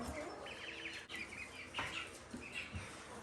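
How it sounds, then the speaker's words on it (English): A golden lace rooster clucking and calling in short bursts, faint and somewhat distant, amid other bird chirps. "And then this is the golden lace rooster."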